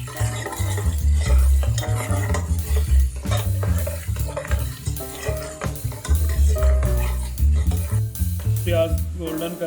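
Onions sizzle in a cup of hot oil for beef nihari, stirred steadily with loud repeated scrapes and clatter of a spoon against the pot, busy and close throughout.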